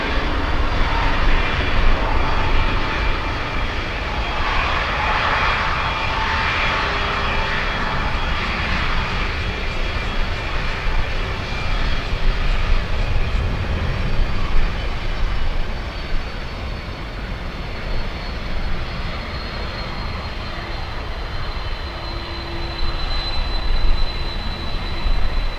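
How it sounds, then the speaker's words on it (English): An airplane at Miami International Airport rumbles steadily for the whole stretch, a broad continuous engine roar with a brief brighter whine partway through, heard from a spotting position with no talk. "Next plane is like 6 miles away."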